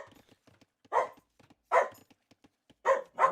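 A dog barks four times in irregular, separate bursts, fairly close and moderately loud, with quiet clicks and no voices in between.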